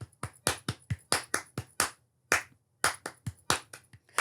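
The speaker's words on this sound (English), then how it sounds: "they would clap something and you would have to clap it back" Crisp, close hand claps tapping out a short rhythmic pattern, about twenty sharp claps in uneven groupings with a brief gap near the middle, heard alone with no talk.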